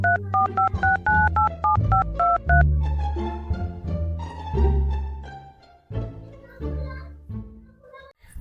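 Keypad tones of a mobile phone being dialled, a quick run of about eight clear beeps at the start, followed by other busier sounds.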